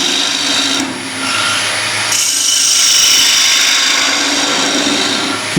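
Wooden bowl spinning on a lathe while a gouge cuts with the bevel rubbing, a steady loud scraping hiss that carries on throughout with slight shifts in tone.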